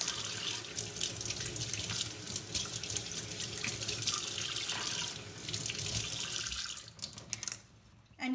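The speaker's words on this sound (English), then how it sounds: "So go ahead and rinse them with plain water." Tap water runs steadily into a sink while makeup brushes are rinsed under it, a continuous close gush that breaks up and stops near the end with a few drips and handling sounds.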